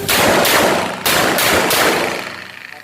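A Smith & Wesson M67-5 .38 Special revolver fires +P rounds: five loud, close shots, a quick pair followed by three more, each with a sharp crack and a ringing tail.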